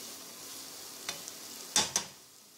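Carrot and cabbage cut into long strips are stirred in a frying pan with salt. A soft continuous sizzle runs underneath, broken by a few scraping clicks from a spoon and two sharper scrapes near the end.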